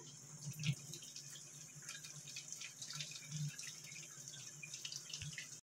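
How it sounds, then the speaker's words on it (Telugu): Tap water runs steadily over a pressure cooker held under the pipe to release its pressure, a continuous close splashing hiss with small drips and clinks, no talk. "ఇలా పైప్ కింద పెట్టి ఆ కుక్కర్ విషల్ ప్రెషర్ పోయేదాకా పెట్టుకోవాలండి"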